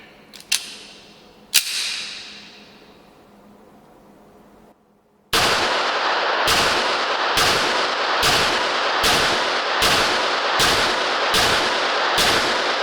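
A Rock Island Armory XT 22 Magnum rifle firing Winchester ammunition: two loud close shots with ringing decay, a pause, then a rapid, evenly spaced string of about eight more cracks over sustained echoing noise.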